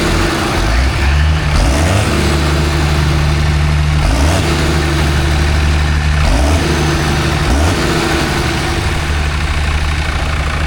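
A Fordson Power Major tractor engine runs loud and close at a spring fair, a steady heavy diesel rumble with the pitch swelling and dipping as it is revved every couple of seconds.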